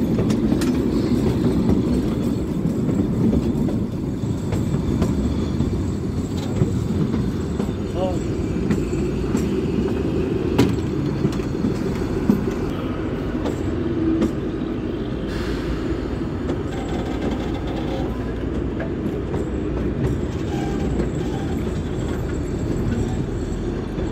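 The Kalka-Shimla toy train rolls steadily into Shimla station, a continuous close rumble of wheels and carriages with faint clicks and squeaks, while people talk quietly over it.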